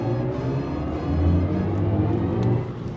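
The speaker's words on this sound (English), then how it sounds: "all these engine sounds are made from HANZ ZIMMER" Synthesized cabin drive sound of a BMW i4 M50 electric car, a continuous layered humming drone that swells slightly as it accelerates, heard alone and fairly loud.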